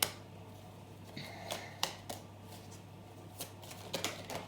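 Tarot and oracle cards are shuffled softly by hand, faint intermittent riffles and light taps close by in a quiet room.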